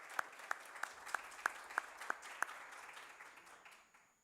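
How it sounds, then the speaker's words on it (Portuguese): Applause at a formal session of the São Paulo state legislature, welcoming the president of the National Council of Christian Churches: faint, steady clapping with a few louder single claps standing out, then tapering off. "peço uma salva de palmas"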